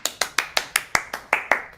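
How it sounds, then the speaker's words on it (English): Nine evenly spaced hand claps ring out close and loud, a small steady round of clapping with no talk over it, the kind given at a casual miniature-making session. "big round of applause, everybody"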